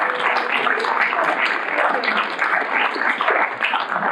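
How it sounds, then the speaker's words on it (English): Warm, sustained applause from an audience at a community reads art show, honoring the participating artists, full and steady with clustered hand claps and no pause. "Give them all a round of applause."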